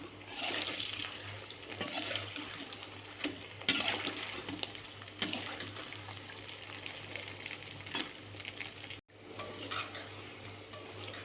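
Potato balls fry in hot oil with a steady, dense sizzle and occasional stirring clinks, close and continuous for several seconds, with one brief dropout near the end and no voices.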